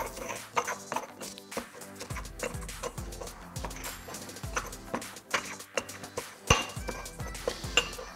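Cut garlic is pressed and crushed with salt on a cutting board, giving irregular close knocks, taps and scrapes of a knife against wood with small clinks, moderately quiet and with no talk.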